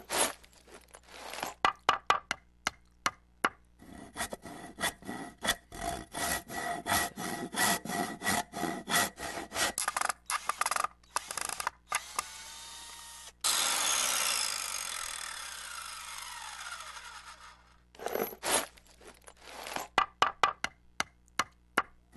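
Workbench being upgraded in the video game Mr. Prepper, heard as bursts of wooden sawing and rasping with sharp clicks and taps between them, fairly loud and alone, with a long stretch of rubbing scraping in the middle.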